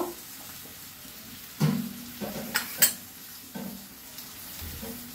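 Mutton liver sizzling and frying in a pan, a constant hiss broken by a few sharp clanks and scrapes of a spoon stirring against the metal, close and fairly loud.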